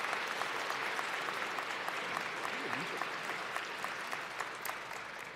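Graduates and guests at the UW-Superior spring commencement applaud associate degree graduates, a steady, even wash of clapping across the whole stretch with a faint voice underneath.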